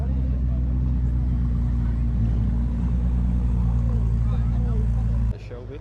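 Audi R8 and Ferrari supercars at a supercar festival drive past together, a loud continuous engine roar that holds steady for about five seconds before cutting off abruptly.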